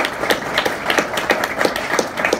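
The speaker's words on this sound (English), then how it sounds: "please, a round of applause for our two great graduates" Applause for two graduates at a computational biology entrepreneurship event at UC Berkeley: a short burst of brisk, overlapping clapping from a modest group, fairly close and steady.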